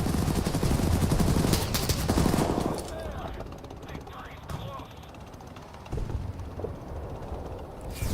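Heavy machine-gun and cannon fire from a tank shooting at a vehicle in War Thunder, loud sustained bursts for the first few seconds, then quieter scattered shots and rumble before firing picks up again near the end.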